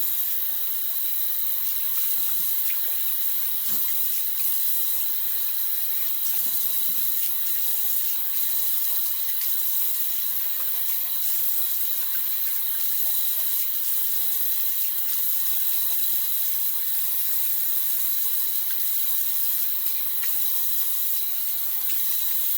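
Tap water runs steadily into a sink for a long stretch while something is rinsed out, a constant close hiss and splash with small shifts in flow and no talk.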